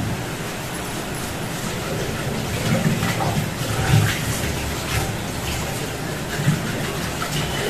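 Tap water runs steadily into a sink while a baby's bottle is washed at home, a constant close splashing rush with a few louder bumps and no talk.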